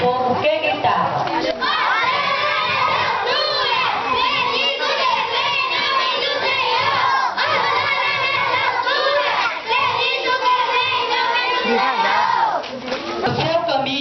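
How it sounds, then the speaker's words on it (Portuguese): Crowd of children shouting together in a school Passion of Christ play, a loud sustained group cry of many young voices that keeps going throughout, rising and falling slightly as one dense mass of sound. "foi recebido pelo povo que gritava"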